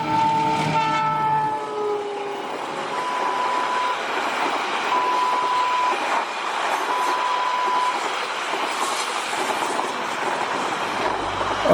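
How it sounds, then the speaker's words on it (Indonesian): A CC 206 locomotive hauling a train runs straight through Ngrombo station without stopping, a loud, steady rumble and clatter of wheels filling the whole stretch, with a horn blast at the start and no voices. "Sembrani log dinas CC 206 melintas langsung stasiun Ngrombo."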